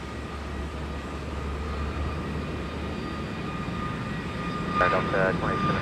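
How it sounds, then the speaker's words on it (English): A United Boeing 737 MAX 8 airliner holds at the runway end, its engines giving a steady low rumble and whine throughout, with faint radio chatter toward the close. "here's United 2272 with a max 8 at the point"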